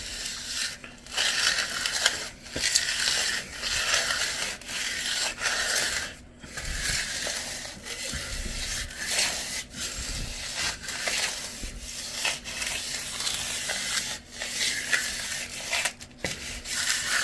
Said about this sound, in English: spread of mortar, and then we will hit it with the